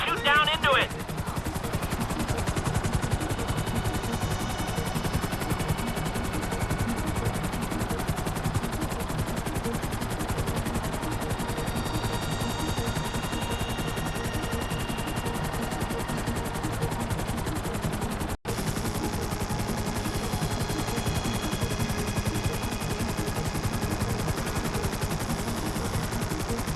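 Rapid gunfire from a helicopter in Grand Theft Auto V rattles almost nonstop for nearly half a minute. The bursts are loud and dense over a constant rotor drone, with one sharp break about two-thirds of the way through and voices heard intermittently.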